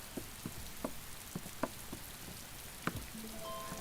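Rain falls outdoors in an ancient Chinese drama scene, heard as sparse, faint scattered drops and light patter with a soft steady hiss behind them and a brief tonal sound near the end.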